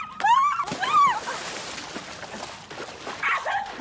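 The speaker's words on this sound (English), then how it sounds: "What the hell is up with this dog?" A dog in a low-budget romantic comedy film gives sharp yips and high, wavering whimpers up close, followed by quieter whines and some background noise.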